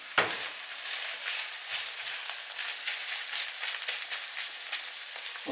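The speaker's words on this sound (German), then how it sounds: "Jetzt tun wir Paprika rein. Ja, okay, ein bisschen umrühren." Paprika sizzles and fries steadily in a hot pan while being stirred, a dense, continuous crackle heard close up, with a few faint knocks from the stirring.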